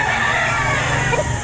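Rooster crowing at an outdoor chicken market in Lipa, Batangas, a sustained call blending with steady crowd and market din throughout.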